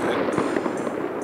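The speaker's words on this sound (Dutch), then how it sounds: "U hoort het vuurwerk, beste mensen." Dense, continuous crackle and rumble of New Year's Eve fireworks in the city of Enschede, heard from a distance as a steady wash of overlapping bangs without any voices.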